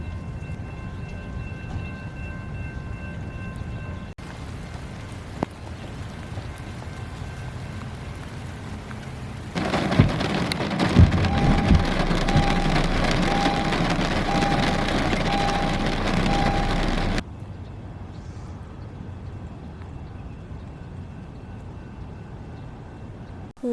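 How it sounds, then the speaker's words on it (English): Stormy-day rain hisses steadily at Alviso Marina in San Jose, swelling into a louder, denser downpour in the middle stretch before easing back to a softer patter, with no voices. "Despite coming on a stormy day, in my opinion, we came at the best time possible"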